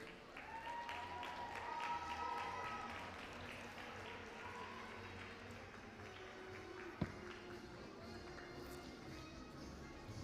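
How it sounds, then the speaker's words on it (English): Faint, distant applause for a gold medalist in a boys' 1 km race at a South African national cross country championship, a diffuse outdoor patter with one sharp knock partway through. "a warm applause for your medalist"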